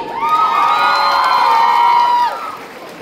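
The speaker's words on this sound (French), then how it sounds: "On applaudit." An audience at a cosplay contest during a fantasy and Japan fan convention lets out a loud, sustained cheer of high whooping voices, rising together and then tapering off after a few seconds.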